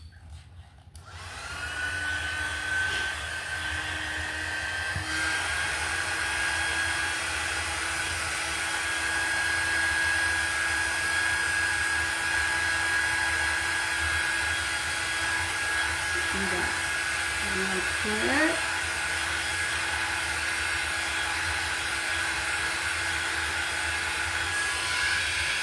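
Hair dryer drying chalk paste on a stencil for a Halloween wall collage, a steady loud whirring blow held for about twenty-five seconds after a brief start, with faint background noise.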